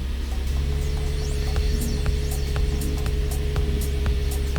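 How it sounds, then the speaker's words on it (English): A Dashworks DW200 fuel pump in a Nissan 350Z runs with a constant low electric hum and faint whine, steady and fairly close, with small ticks over it and no voices. "Fuel pump's working. It's quiet. It's a Dashworks"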